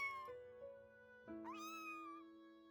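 A kitten meows a few times in the video game Little Witch in the Woods, the short calls rising over soft, steady game music.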